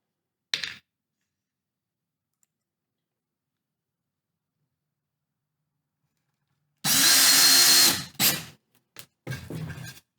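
A power drill drives screws into a finished wood pyrography piece in a short loud burst of whirring, followed by a few brief stuttering spurts as the screws seat, with quiet before it and no talking.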